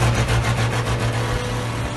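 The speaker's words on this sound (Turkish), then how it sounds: "O da kulaklara kazınmış olan dehşet egzoz sesi ve de ara gazıydı" Ford D1210 truck engine running loud and close, a deep rumbling exhaust note that rises and falls with throttle blips, steady and continuous with no voices.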